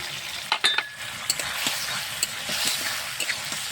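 Green chillies and chopped tomato hit a spiced masala in a pan, giving a steady close sizzle with a few sharp clinks and stirring scrapes, no voices.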